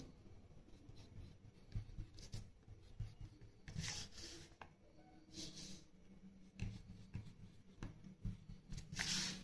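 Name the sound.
pen or marker drawing dotted lines while teaching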